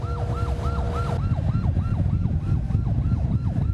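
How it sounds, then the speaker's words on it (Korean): A fisheries enforcement patrol boat chasing an illegal trawler at sea sounds its siren, a loud, steady wailing tone rising and falling over a constant roar of engine and water throughout. "사이렌 소리로 단속을 알리지만 트롤러선은 오히려 속도를 높인다."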